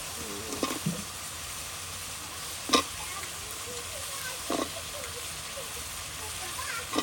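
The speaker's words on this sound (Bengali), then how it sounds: "এই যে আমাদের পেঁয়াজ রসুন মরিচ দেওয়ার পরে কষা নিয়ে গিয়েছে" Onion, garlic and chili sauté in a pan, a faint steady sizzle with a few sharp spatula scrapes spaced a couple of seconds apart, under quiet background talk.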